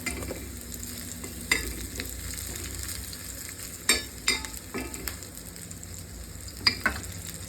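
Cinnamon and cloves sauté in a pan with a continuous sizzle, while a spoon scrapes and clinks against the metal in irregular knocks, close and clear, without talk.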